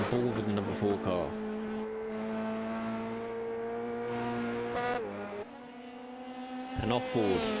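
Onboard Formula BRM race car engine at Monza during a sprint race, loud and close, with sustained high revs, upshifts and dips in pitch as it brakes and accelerates, under steady commentary.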